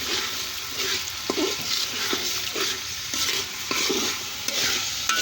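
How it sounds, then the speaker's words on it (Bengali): A pot of biryani for a winter picnic cooks in the afternoon, with loud, close stirring that makes repeated scrapes and clanks over a continuous sizzle. "বিরিয়ানি রান্না করা হইতাছে বিকালবেলা"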